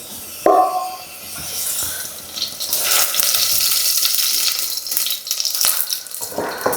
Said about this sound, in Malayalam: ഇതിനകത്ത് കുറച്ച് വെളിച്ചെണ്ണ ഒഴിക്കുക